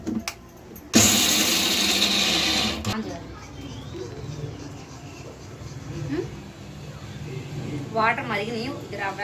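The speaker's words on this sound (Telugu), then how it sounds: "మిక్సీ వేస్తాను" A kitchen mixer grinder whirs loudly in a short burst of about two seconds while grinding chillies and salt for chutney, then cuts out, leaving quieter kitchen sounds and brief chatter.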